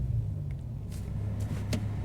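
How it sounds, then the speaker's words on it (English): A car with a BMW S85 V10 engine and DCT gearbox idles with a low steady rumble, then briefly revs as it restarts and pulls away, with a few faint clicks. "Just restart the car, set off again."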